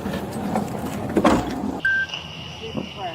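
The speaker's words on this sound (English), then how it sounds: "I'll roll the window down" A car's power window rolls down with a brief electric motor whine, preceded by nearby talking and handling noises inside the vehicle.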